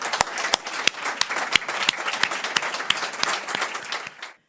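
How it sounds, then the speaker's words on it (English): Applause at the ROOH book launch at COP28, with sharp individual claps standing out above a dense bed of clapping. It stays steady and fairly close, then stops abruptly just before the end. "So let's clap for Salim."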